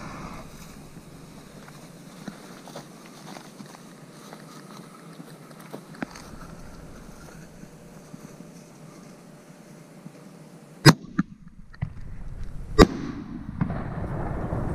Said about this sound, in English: shell. Truss track, 6-inch canister, grass green peony.